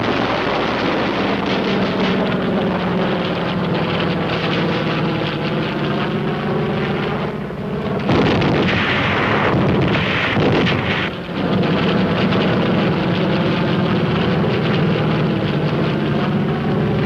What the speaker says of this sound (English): Air comes strafing. And Marine air with rockets and napalm to burn them out.